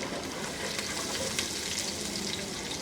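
A steady, even sizzle of garlic and ginger frying over medium-low heat in a pan, close and continuous, without any talking.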